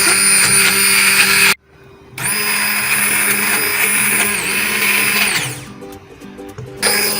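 A blender whirs loudly up close while mixing chocolate spread in its bowl, a steady high motor whine that cuts out briefly, restarts, dips in pitch as it winds down, then starts again.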